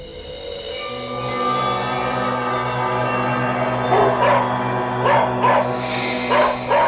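A dog barks in several short, loud bursts near the end, over a steady tonal hum in the background.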